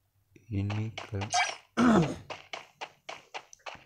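A person with a lingering cough coughs several times while playing an online game, a couple of harsh voiced coughs followed by a string of short, quick bursts, close to the microphone.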